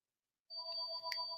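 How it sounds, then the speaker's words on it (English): A phone rings with a bright electronic tone that starts after a short silence and sustains steadily and clearly, with no talk over it. "The phone is ringing, guys."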